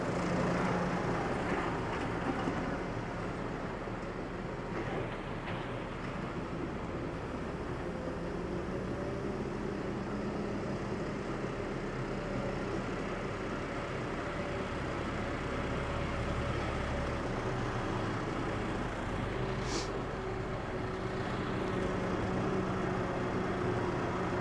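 A Case Maxxum 125 tractor engine runs steadily as it is driven around a shed, a continuous low rumbling drone at moderate distance with no talk.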